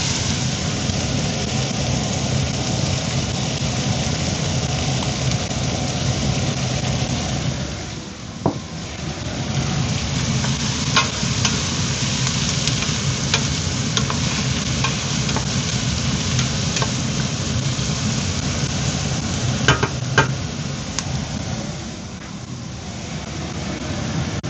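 Onion frying and being stirred in a pot for a lentil stew, a steady loud sizzle with scraping stir sounds throughout, close and continuous, with a short dip partway through.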